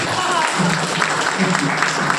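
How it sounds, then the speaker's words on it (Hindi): Loud applause from the audience at a business seminar, a busy spread of clapping hands that continues steadily, with voices heard in the crowd beneath it. "एक बार जोरदार तालियां"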